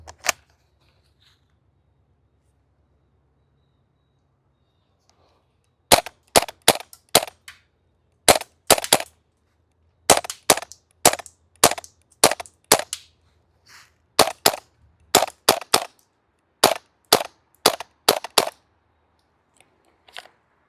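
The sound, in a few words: Krytac KRISS Vector gas blowback airsoft SMG firing at targets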